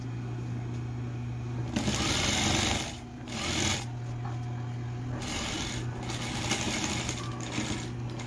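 A sewing machine stitches the seam of a fish-shaped fabric backpack, running in several bursts of steady whirring with brief pauses between them, over a constant low motor hum.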